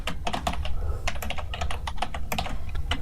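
Steady close typing on a computer keyboard while entering HTML code, a continuous run of crisp keystrokes and heavier key presses, no voice over it.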